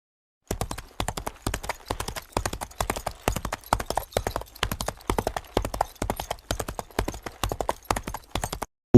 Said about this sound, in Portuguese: Olhei e contemplei um homem amontado num cavalo branco. Ele estava galopando, nos quatro cantos da terra.